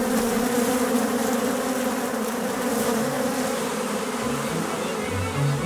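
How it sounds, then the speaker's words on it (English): A honeybee swarm pours out of the hive as the old queen departs, making a dense, continuous buzz that stays loud and steady throughout with no voices. "The old queen leaves the hive with her following, the swarm."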